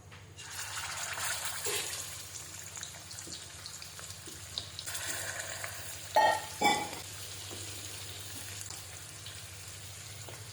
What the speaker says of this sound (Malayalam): ചിക്കൻ കഷ്ണങ്ങൾ എല്ലാം എണ്ണയിലേക്ക് ഇട്ട് കൊടുത്തിട്ടുണ്ട്.